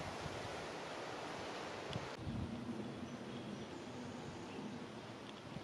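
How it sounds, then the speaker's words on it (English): Strong wind gusting across the microphone outdoors on a nature walk with a dog, a steady close roar with a louder rumbling swell midway and no talking. "It's really windy"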